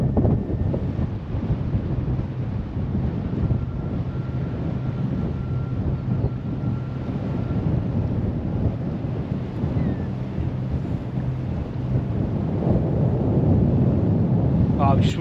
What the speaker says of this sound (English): this wind's getting stronger and stronger